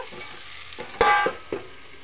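A spatula scrapes and taps against a frying pan as vegetables with salt are stirred, a few distinct knocks over a soft background sizzle, close and fairly quiet.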